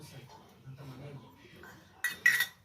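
New steel spoons clink sharply twice near the end, preceded by faint handling sounds and quiet talk.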